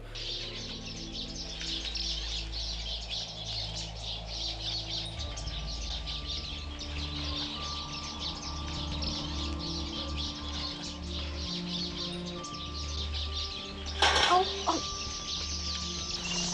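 Many caged birds chirping and clucking in a pet store over a constant low hum, with a brief louder burst near the end.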